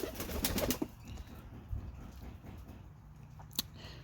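Pigeons in a pigeon loft give soft, low cooing under a rustle of wings and shuffling at the start, then a quieter murmur with one brief sharp sound near the end.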